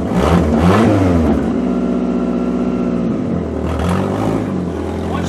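Car engine turning over and catching, then revving up and settling into a steady mid-pitched hum before another rise in revs, close and loud.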